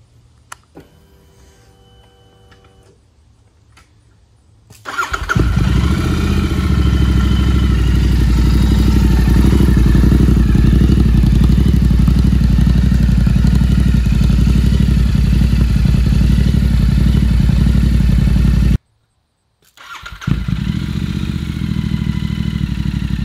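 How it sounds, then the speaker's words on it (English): A Royal Enfield 650 GT motorcycle with its S&S decibel killer removed starts after a few faint clicks, then idles with a loud, steady, throbbing rumble close by, cuts out briefly and fires up again. "Let's hear what it sounds like without the decibel killer."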